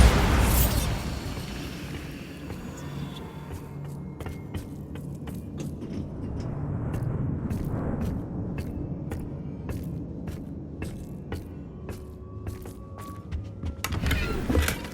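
Bombarda blasting spell cast in Hogwarts Legacy: a loud booming burst at the start, followed by a rumbling low wash with scattered sharp crackles and pops, and another burst near the end.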